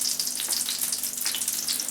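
American pancakes frying in a pan, a continuous close crackling sizzle with bright spitting pops throughout.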